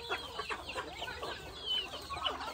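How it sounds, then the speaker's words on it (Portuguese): A hen clucks repeatedly on a farm in Pará, Brazil, in short close bursts with an irregular rhythm, alone and without talk. "Uma galinha!"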